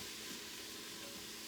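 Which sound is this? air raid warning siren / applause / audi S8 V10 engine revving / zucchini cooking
zucchini cooking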